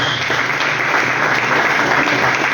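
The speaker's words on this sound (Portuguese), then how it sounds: "Palmas para Jesus." A church congregation at a Pentecostal evangelical service applauds in a dense, steady wash of clapping that stays loud and even from start to finish.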